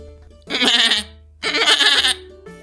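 Sheep and goats bleat twice in close succession, each call a loud wavering cry of about half a second, over a steady low hum.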